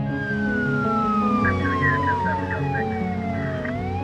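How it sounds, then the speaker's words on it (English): Ambulance and police sirens from the BeamNG driving game wail steadily and loudly, a rising-and-falling siren tone sweeping over a low engine rumble with layered siren voices throughout. "An ambulance and police arrived in under 5 minutes."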